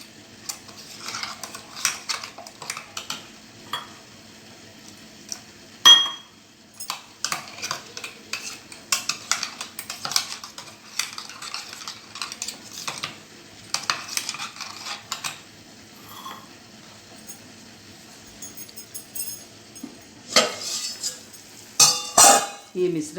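A spoon stirs ground sambar paste mixed with water in a vessel, making close, irregular bursts of scraping, sloshing and metallic clinks separated by short quiet gaps.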